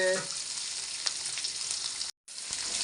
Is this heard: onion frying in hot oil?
yes